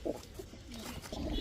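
Kaldam pigeons coo close by in soft, low, throaty bursts that overlap and repeat over a second or so, with no talking.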